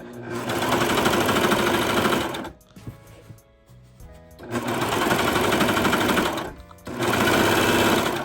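A Brother serger stitching fabric: loud, fast mechanical rattling in three bursts, the first two separated by a quiet gap of about two seconds and a brief pause before the last.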